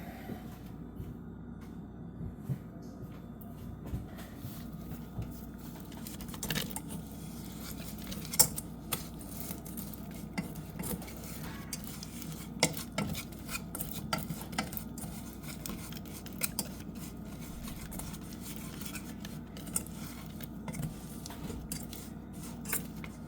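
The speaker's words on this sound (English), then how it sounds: "You want to keep stirring every 20 seconds." A spoon slowly stirs caramel in a pot, giving soft continuous scraping and rubbing with scattered light taps against the metal, steady and close, with no talking.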